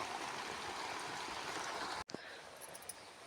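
Steady, rushing water from a borewell pours continuously into a pit at close range on a maize farm, a broad hiss with a brief dropout about two-thirds of the way through.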